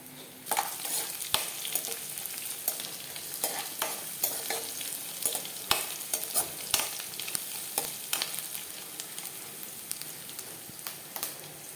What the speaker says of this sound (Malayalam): ഇതിലേക്ക് 4 അല്ലി വെളുത്തുള്ളി മുറിച്ചിട്ട് കൊടുക്കുക. ഇതിലേക്ക് കുറച്ച് കറിവേപ്പില ഇട്ട് കൊടുക്കുക.